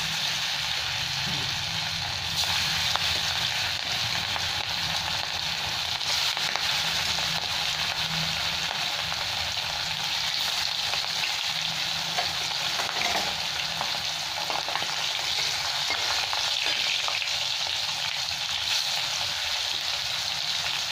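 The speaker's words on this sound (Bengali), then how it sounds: "সর্ষের তেল গরম হয়ে গেছে, এবার দিয়ে দিচ্ছি মাছগুলো ভেজে নিচ্ছি সব" Pieces of rohu fish rubbed with salt and turmeric fry in hot mustard oil, giving a loud, dense, unbroken sizzle and crackle close up for a long stretch, with faint stirring and no voices.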